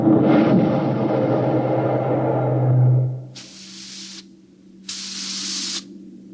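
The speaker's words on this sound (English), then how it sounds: "We could hear the desperate bursts of steam through the steering tubes as the Starfire maneuvered to dodge the enemy attacks." Sharp bursts of steam jet through a spaceship's steering tubes as it maneuvers, two separate loud hissing blasts following a long fading roar and low hum.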